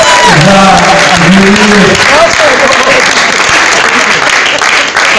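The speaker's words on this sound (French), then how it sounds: "est-ce qu'on peut applaudir bien fort?" An audience at an awards ceremony applauds loudly, a dense, steady roar of clapping and some cheering while someone speaks over it through an amplified microphone.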